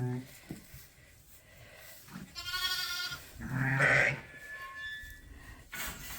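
Sheep and lambs bleat on a farm, several wavering calls at close to middle distance, some higher lamb-like cries, scattered over quiet background noise.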